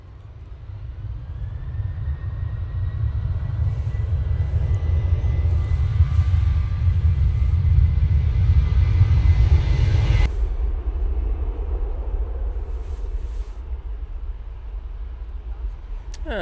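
KLM Embraer E2 jet at an airport, engines giving a deep, loud rumble with a rising whine that builds, holds, then cuts off sharply partway through, leaving a fainter background hum.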